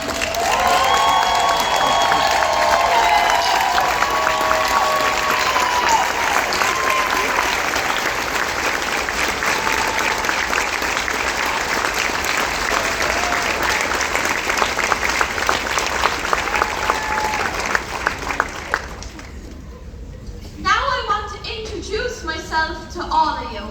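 Audience applause and cheering for the Colin Froud Foundation Board of Directors at an Angelman evening ball, loud sustained clapping from a large standing crowd for about eighteen seconds, then fading into a voice speaking.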